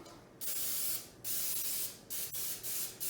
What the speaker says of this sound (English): I need a greased pan, so with this, I'm going to spray my pan.